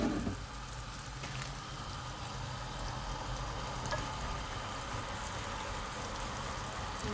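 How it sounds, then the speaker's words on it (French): Onions frying in a pan, giving a steady, even sizzle that runs throughout without speech. "Donc il est en train de faire cuire les oignons."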